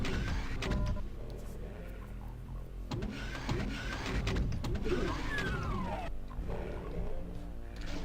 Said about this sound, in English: when you walk onto the columns themselves, they raise again